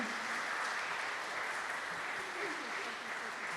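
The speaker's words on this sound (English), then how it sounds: "one more round of applause for these beautiful people." Church congregation applauding in a steady, even round of clapping that holds at a constant level throughout, with faint voices mixed in.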